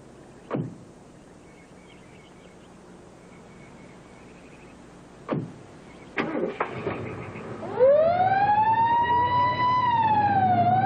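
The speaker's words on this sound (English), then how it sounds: "Will you turn on the siren?" A police car starts up with a couple of sharp door thumps and the engine turning over, then its siren rises into a loud, close, wavering wail that keeps sounding to the end.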